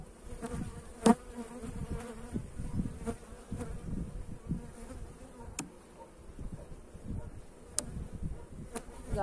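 Honey bees buzz steadily inside a hive colony being readied for pollen collectors, a dense, close insect drone with a few sharp clicks and knocks, no talking.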